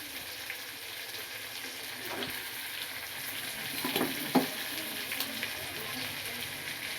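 Cooked rice is stir-fried in a pan, a soft continuous sizzle with a few scraping stirs near the middle, fairly quiet and close, with no clear talk.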